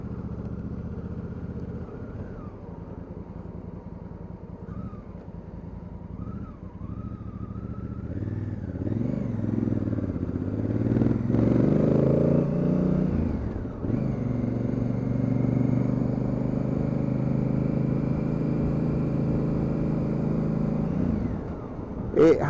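A 2019 Honda CRF1000L Africa Twin 1000 ABS engine pulls hard through the gears on the road, its throbbing exhaust rising in pitch with distinct shifts, loud and close, with a rider's voice faintly over it.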